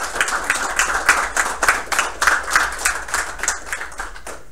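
A small group claps in uneven, sharp bursts at a game studio build review meeting, the applause close and lively before gradually thinning out.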